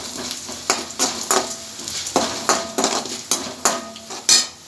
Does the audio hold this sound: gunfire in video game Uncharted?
no